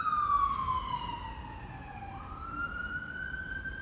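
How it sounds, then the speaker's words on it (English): A wailing siren sweeps down and then rises again over steady road rumble, fairly loud and passing at moderate distance. "That siren's not for me, I think."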